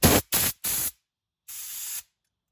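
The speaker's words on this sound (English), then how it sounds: "just line up your air gun with one of the holes on the side, and blow some pressure through there" Compressed air gun blowing pressure through the side holes of a carburetor during cleaning: three short, loud hissing blasts in quick succession, a pause, then one longer blast.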